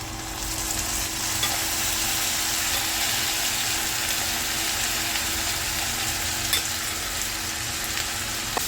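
Steady, dense sizzling of ginger garlic paste frying in a hot pan, continuous and fairly loud with faint scraping clicks, no voices.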